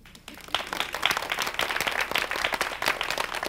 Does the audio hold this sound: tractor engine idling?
no